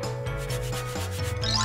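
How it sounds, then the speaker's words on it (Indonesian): Sandpaper rubbed back and forth on the cut edge of a plastic soda bottle, quick rhythmic scratchy strokes up close, loud and steady with no voices. "Amplas juga sininya."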